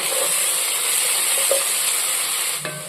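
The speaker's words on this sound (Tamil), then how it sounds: "இஞ்சி பூண்டு பேஸ்ட்டு நல்லா எண்ணெயில் வதங்கி மனம் வரணும்" A steady, bright sizzle of ginger garlic paste frying in hot oil, continuous throughout, with a faint stirring scrape and a small clink near the end.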